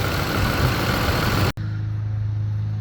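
A Ford Expedition's engine idles during an air-conditioning recharge: a steady low rumble that cuts briefly and then continues with a lower, even drone.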